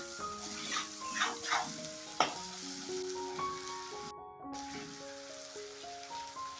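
Tomatoes sautéing with salt and spices in a pan for a drumstick, pumpkin and potato curry, a steady close sizzle with a few scraping stir strokes early on, under a soft musical tone.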